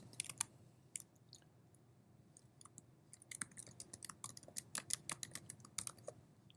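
A password being entered on a computer keyboard, with quiet, close key clicks that come sparse at first and then pick up into a quicker run of taps near the end.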